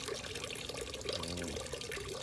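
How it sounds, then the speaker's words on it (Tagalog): Water poured from a rain barrel onto garden plants around a house, a continuous splashing, trickling pour with gurgling bursts, close and moderately quiet, no talking. "Ito, nagdidilig ako ng mga tanim."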